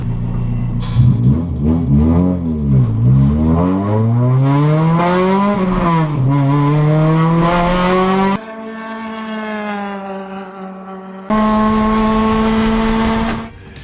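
A K20-swapped Honda EK9 Civic engine revs hard and accelerates up through the gears, loud and close, its pitch climbing in repeated sweeps with brief dips at each shift and no talking.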